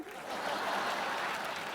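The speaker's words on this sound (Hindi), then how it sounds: "ताली बजाओ" Moderate applause on the set of a Hindi game show, a steady wash of clapping at fairly low level that holds evenly to the end.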